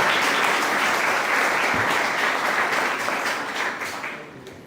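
Applause from a panel audience at an agrifood and climate event rolls on steadily, a thick crowd of clapping hands that gradually fades.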